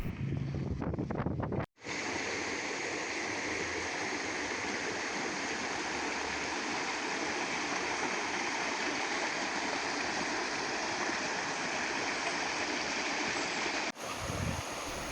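A stream flows over rocks in the hills of Badulla, a steady, full rushing of water close by that runs on without pause after a brief opening.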